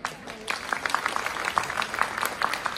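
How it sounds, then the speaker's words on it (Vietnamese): Scattered clapping from guests at a family gathering in Hue, a loose uneven patter of individual claps that stays fairly light and quiet, without voices over it. "chúng ta hãy dành một tràng vỗ tay thật là lớn nữa đi ạ"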